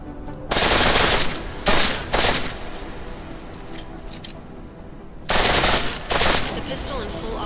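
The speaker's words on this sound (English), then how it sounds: "Pistol in full auto will take down targets fast, but it'll burn through your ammo" Rapid automatic pistol fire from Deus Ex: Mankind Divided, three loud close bursts of several shots each with a pause before a final pair of bursts, over a low game ambience.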